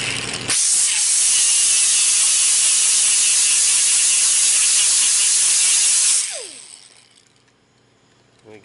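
Grinding off a small plastic tab on a Dewalt 14 volt battery makes a loud, harsh, continuous hiss for about six seconds, then tapers away to quiet.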